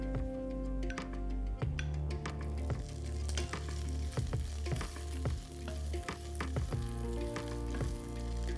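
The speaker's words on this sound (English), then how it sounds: "Now to the tempering, I'm going to add some boiled and cubed potatoes." Boiled, cubed potatoes frying in a hot tempering of grated ginger and curry leaves, a dense continuous sizzle with frequent clinks and scrapes of stirring, close and steady throughout.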